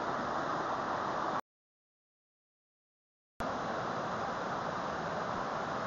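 Baby Falls on the Bald River in Tennessee's Cherokee National Forest gives a steady, even rush of falling water, broken by a sudden two-second gap of total silence before the rush resumes unchanged.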